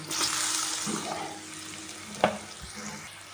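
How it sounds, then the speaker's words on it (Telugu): Potato and tomato pieces with a light dusting of turmeric fry in a pan with a steady, moderate sizzle and occasional stirring scrapes, one sharper clink near the end. "లైట్గా పసుపు ఇలా ఒకసారి వేయించుకోండి"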